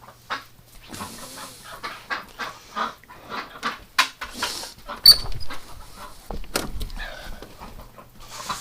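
Female ducks quack excitedly in a winter pen: a busy, overlapping run of sharp calls, some near and loud, others softer, continuing in uneven bursts with a low background hum.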